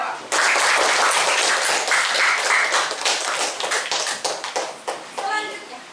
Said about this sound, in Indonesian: Beri tepuk tangan yang sudah menjawab.